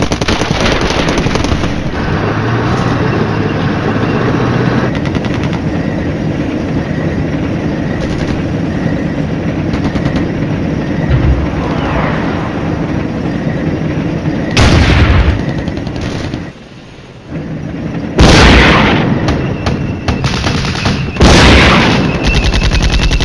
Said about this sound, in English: Here's our artillery coming in.